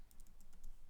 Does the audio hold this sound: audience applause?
no